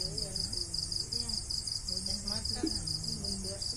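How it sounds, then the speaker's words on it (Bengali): Dense, continuous high-pitched cricket chirping at night in a village fills the background, steady and unbroken, with faint low murmurs underneath. "গ্রামে ঝিঝি পোকার আওয়াজটা আসলে খুব ভালো লাগে"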